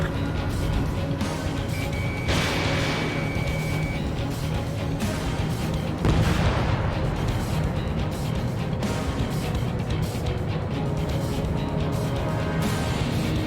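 Missiles fire and explode in the Ace Combat 7 jet combat game: two loud broadband bursts over a steady roar of jet engine noise, with a warning tone beeping in the mix.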